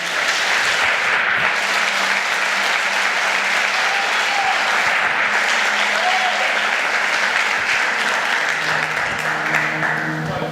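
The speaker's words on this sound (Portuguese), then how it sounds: "Dê um forte aplauso a Jesus." Congregation applause at a church conference, a dense, continuous roar of many hands clapping at full volume throughout, with faint voices and cheers mixed in.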